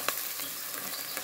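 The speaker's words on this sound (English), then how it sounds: "Just fry that off a bit" Onion frying in a pan with a pinch of hot paprika, a soft steady sizzle with faint stirring scrapes, quiet and close.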